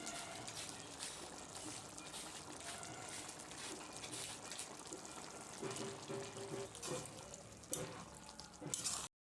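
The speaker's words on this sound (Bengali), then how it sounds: "এখন এই যে টকবক টকবক করে ফুটছে" A pot of jackfruit and potato curry simmers after hot water is poured over the fried ingredients, giving a continuous low bubbling and sizzling texture with occasional clinks near the end.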